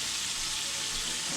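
Melted butter boils instantly in an overly hot pan, a steady close hiss and crackling sizzle that runs unbroken and fairly soft.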